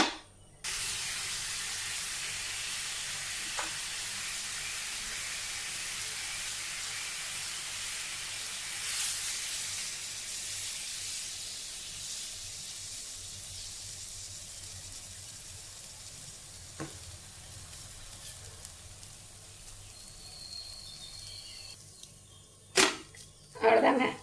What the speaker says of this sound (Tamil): இதேமாரி இன்னொரு தோசையும் ஊற்றிக்கலாம்